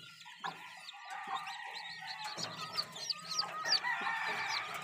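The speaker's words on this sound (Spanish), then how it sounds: "Estos pollitos nacieron hoy." Newborn chicks cluck and chirp in short overlapping bursts, close by, with bright high peeps throughout and no talking.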